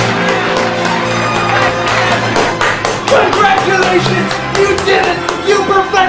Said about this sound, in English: You perfected